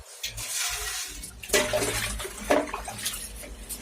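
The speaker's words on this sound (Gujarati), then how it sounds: "પછી આપણે એને પાણીની મદદથી ધોઈ લેવાનું છે" Splashing and running water as a mixer jar is rinsed, in uneven gushes with a few sharp clatters, close by.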